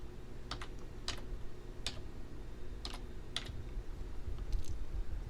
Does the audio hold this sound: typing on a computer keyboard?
yes